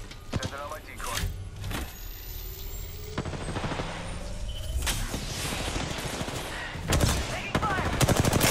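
Apex Legends gunfire comes in sharp separate shots and quick bursts amid a busy fight, some near and loud, others farther off, with voices speaking over the action.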